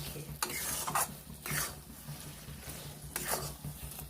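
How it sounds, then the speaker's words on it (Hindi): Ingredients are stirred together in a pan, a spoon scraping and swishing in several bursts with a faint sizzle underneath, close and steady without talking. "अब हम अच्छे से देखिए मिलाएंगे।"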